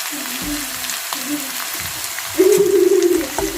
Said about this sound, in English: For the stir fry, I'm mixing here. I'm going to let it saute for about a couple of minutes